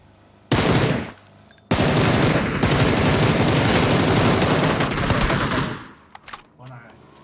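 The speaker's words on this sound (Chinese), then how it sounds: "有枪声啊" Bursts of rapid automatic gunfire in a team battle-royale shooter game, one short volley followed by a long sustained fusillade lasting several seconds, loud and close, then fading into brief scattered shots.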